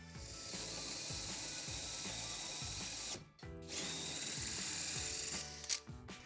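A power drill whirs continuously with a rapid grinding, ratcheting texture while drilling a hole in a shower side panel, pausing briefly once before resuming, close and loud.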